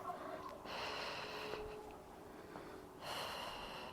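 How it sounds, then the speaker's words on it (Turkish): A person doing leg exercises breathes in and out audibly, two long, airy breaths separated by a pause, faint and close against a quiet background. "Nefes alıp veriyoruz."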